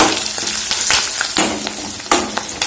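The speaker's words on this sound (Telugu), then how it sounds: "ఈ పోపుని కొంచెం వేగనియాలి" A tempering of turmeric and curry leaves fries loudly in a pan, crackling and popping in bursts as it is stirred, with no voices over it.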